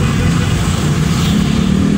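A 2014 Suzuki Ertiga GX has its window down, letting in a loud, steady wash of outside road traffic and engine rumble, continuous and close, with no talk.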